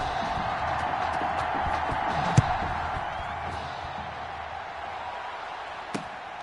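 A steady, dense roar of a large stadium crowd in an American football video game fills the background, with a couple of sharp thuds cutting through.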